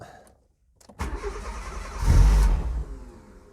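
A Fiat Cinquecento Turbo engine cranks after a short quiet pause, sputtering into a rough, loud burst that briefly swells and then fades without settling into a steady idle.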